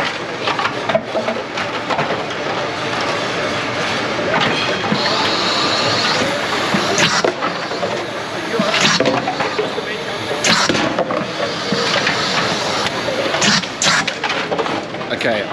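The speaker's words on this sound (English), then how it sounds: "This machine can pick about 35 different things per minute." A robot sorting machine picks items at high speed, giving a steady, loud mechanical clatter and whir that runs continuously with dense rattling bursts throughout.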